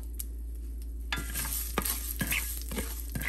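Mustard seeds and fenugreek roast in a hot pan, a soft sizzling crackle broken by scattered sharp pops and the scrape of stirring, close and fairly quiet over a low steady hum.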